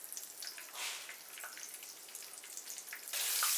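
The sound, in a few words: country fried cube steak sizzling in pan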